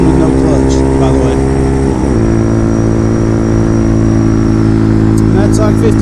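A Bashan Motomax 250 motorcycle engine droning loudly and steadily up close, with a brief dip and pitch change around two seconds as a gear is shifted without the clutch, then a sustained cruising roar.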